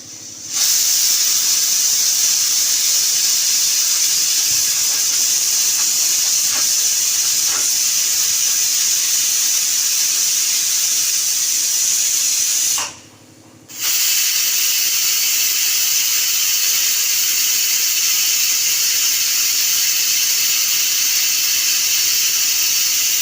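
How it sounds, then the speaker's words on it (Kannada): A pressure cooker releasing steam after its whistles while cooking drumstick sambar, a loud, steady, close hiss that runs continuously with one brief break partway through. "ನೋಡಿ ಕುಕ್ಕರ್ 2 ವಿಷಲ್ ಬಂದಿದೆ."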